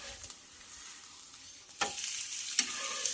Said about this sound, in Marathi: तर याला सुद्धा आपल्याला छान असं खरपूस भाजून घ्यायचं आहे आणि मी नॉनस्टिकचा तवा वापरलेला आहे।